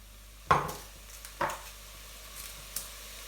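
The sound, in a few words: onions being mixed in a pan on an electric cooker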